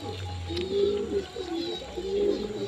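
Pigeons coo softly at close range, several low rolling calls repeating in a gentle rhythm over a quiet background hum.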